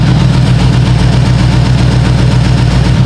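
V8 engine idling on cold oil in a swapped BMW E36, a loud, close, steady low rumble with an even pulsing throb throughout, and no voices.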